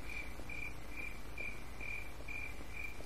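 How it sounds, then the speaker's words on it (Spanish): Crickets chirping in the video game Half-Life 2, a steady rhythmic series of high trilling pulses over a low ambient hum, evenly spaced and moderately loud, with no talk. "¿Por qué se sigue escuchando los grillos?"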